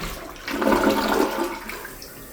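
A house bathroom toilet flushes with a loud rushing swirl of water that peaks then tapers into a softer refill trickle, close by with no talking.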